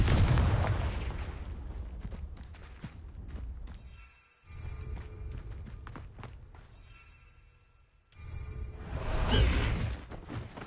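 The Confringo fire spell in Hogwarts Legacy bursts in a whooshing explosion with deep booming blasts, then a quieter gap before a second fiery whoosh and boom.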